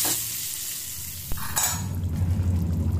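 Butter tadka with black pepper powder sizzling and being stirred in a pan while making mutton kofta, a steady close frying hiss with a brief clink partway through.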